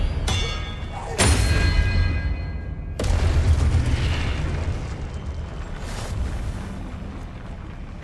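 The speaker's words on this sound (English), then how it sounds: "Expelliarmus!" In the video game Hogwarts Legacy, an Expelliarmus spell goes off as sudden booming bursts with a rumbling, crackling tail, followed by a second blast and a softer whoosh, all loud and near.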